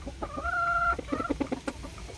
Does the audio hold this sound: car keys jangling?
no